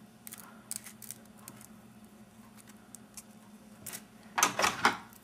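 Scissors snip through ribbon while a fabric rose corsage is being made, a quiet cluster of short crisp cuts near the end after faint handling rustles.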